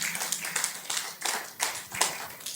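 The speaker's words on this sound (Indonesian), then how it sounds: "Tepuk tangan untuk Tuhan Yesus." A church congregation claps in a brisk, rhythmic run of hand claps. The claps are fairly close and steady, with a faint voice underneath.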